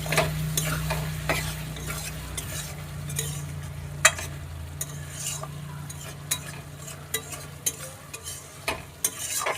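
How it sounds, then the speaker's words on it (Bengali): Meat and ridge gourd are stir-fried in oil with no added water, giving a soft steady sizzle under repeated clinks and scrapes of a metal spatula against the pan. "কিছুক্ষণ চাপা দিয়ে দিয়ে কষিয়ে নিব, তাহলেই আমার ঝিঙে রান্না রেডি"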